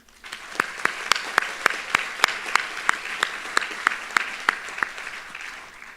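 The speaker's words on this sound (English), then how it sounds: "Let's give a round of applause for them." Scattered applause from a small group at a university nursing graduation ceremony, about a dozen distinct claps in a loose, uneven rhythm, fairly close.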